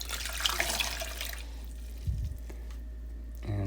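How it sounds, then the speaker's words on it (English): Water is poured out of an under-sink reverse-osmosis filter housing, splashing close into a sink for a couple of seconds before trailing off into a few scattered drips. "we're going to dump out the water."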